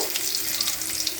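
Taro stuffing pieces fry in hot oil in a wok, giving a steady close sizzle with light crackling pops throughout the short stretch and no talk.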